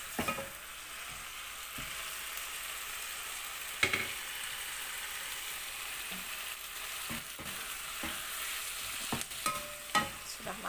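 Cabbage stir-fried in a pan for a Taiwanese home-style dish, a quiet continuous sizzle with scattered clicks and scrapes of the spatula stirring the wilting leaves.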